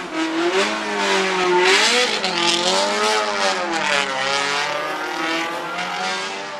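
A diesel Fiat race car at the Cape Town hillclimb revs hard nearby, its engine note rising and falling through gear changes in a loud, continuous roar.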